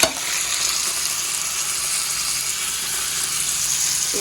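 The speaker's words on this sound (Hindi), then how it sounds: "ये चढ़ाई हूँ मैं पैन, और इसमें डालती हूँ तेल" Onion frying in oil in a pan, a steady, bright sizzle that holds evenly close up for several seconds with no talking.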